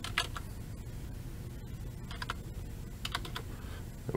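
Fingers type on a computer keyboard, a steady run of light, quick key clicks with a few louder taps, close and alone against a low background hum.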